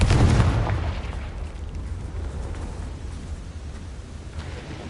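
Confringo explosive spell in Hogwarts Legacy, a loud booming blast at the start with a low rumble that decays into a lingering crackle and hiss.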